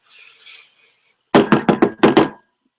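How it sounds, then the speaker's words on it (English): A dormitory door is knocked on in a typical resident-advisor manner: five or six sharp, close raps in an uneven rhythm that come after a faint hiss, with nothing after them. "Knocks on the door. It was just it's a typical RA knock."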